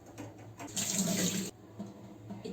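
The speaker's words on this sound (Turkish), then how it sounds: "Şurada nohut var. Nohutu ben bir süzeyim" Tap water runs into a kitchen sink as chickpeas are strained, a close, loud rushing burst lasting under a second amid quieter splashes and trickles, with no voices.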